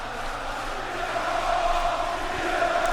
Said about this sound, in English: this crowd is fiery hot for AJ Styles versus Kenny Omega